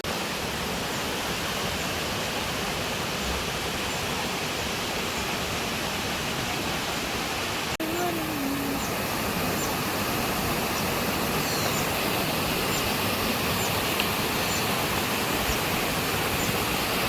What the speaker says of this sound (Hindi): तो वही झरना वहाँ से आके इस साइड पे आ रहा है